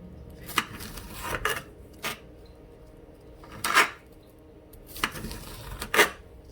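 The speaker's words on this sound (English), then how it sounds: "now you're gonna slice your sweet peppers" Sweet peppers, a mix of yellow, orange and red, sliced with a kitchen knife on a board: a few separate crisp cuts and knocks, spaced irregularly and close by, with no talking.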